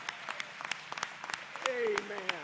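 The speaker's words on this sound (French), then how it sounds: "Une fois encore, une bonne main d'applaudissements." Applause from a church congregation during a French-language worship service, scattered claps rising into a fuller ovation, with a voice speaking or singing over it toward the end.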